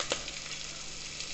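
Green chillies and curry leaves frying in hot oil for a Maharashtrian chicken rassa, a steady close sizzle with a brief louder crackle near the start.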